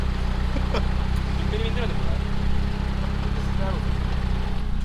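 A performance car with a swapped engine, cold-started and rattling loudly, runs as a continuous close rumble throughout while people talk over it.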